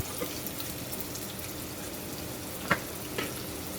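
Green chillies and onion fry with salt in a pan, giving a steady, even sizzle with a couple of brief louder crackles, close and with no talk.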